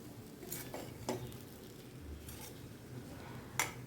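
A spoon stirs poha and potatoes in a pan in a home kitchen, making faint, scattered scrapes and clinks against the metal over a few seconds.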